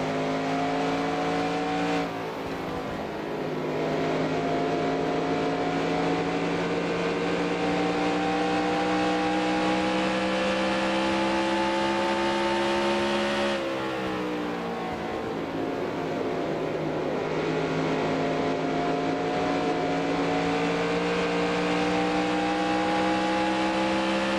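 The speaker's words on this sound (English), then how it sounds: "You just have to like shift up early, so you're not like getting a lot of revs while you're coming up to speed on the apron." A race car engine in the NASCAR Racing 2003 video game, set at Rockingham in a 1994 Busch Grand National race: a sustained, loud engine drone climbs in pitch through the gears, with two sharp upshifts dropping the revs before climbing again.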